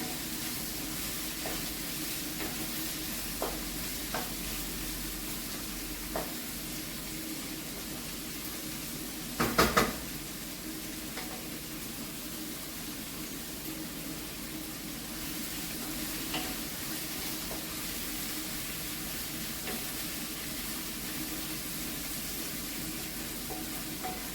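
Onions frying with a pinch of salt in a pan as the base for a spicy chicken curry, giving a steady, soft sizzle with occasional stirring scrapes and one brief louder clatter midway, no talking.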